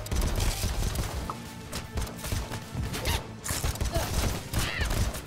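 Rapid gunfire and impacts from the action roguelike game AK-xolotl come as dense, repeated bursts over a busy mix of game music and effects, with no talk heard.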